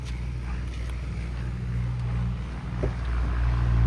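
A 2016 Maruti Suzuki Vitara Brezza ZDI diesel engine idles with a steady low drone and throb, close and even, with a faint rise in level toward the end.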